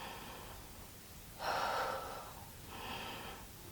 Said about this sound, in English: So here's chest breathing.